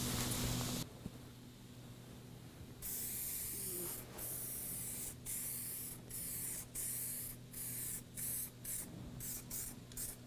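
A 2K aerosol spray can lays a mid coat of paint onto a car panel, heard as a long close hiss followed by a series of short, separate spray bursts in a rhythmic pattern.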